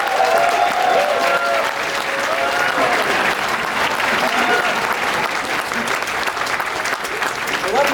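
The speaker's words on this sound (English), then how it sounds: "can I please get a round of applause for our AV team for this amazing setup?" A convention crowd at the HarmonyCon 2020 opening ceremony claps loudly and steadily for several seconds, with scattered cheers and voices woven through the applause.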